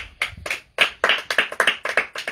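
A church congregation claps in a quick, uneven rhythm of roughly a dozen sharp claps over two seconds, close and fairly loud, with no cheering voices standing out.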